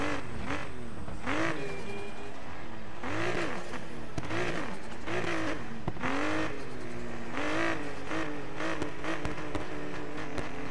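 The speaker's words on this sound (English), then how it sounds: "Let's go drift these bad boys." Cars drifting in the Need for Speed Payback racing game, engines revving and dropping in repeated swells while tires squeal through corners, loud and continuous with no talk.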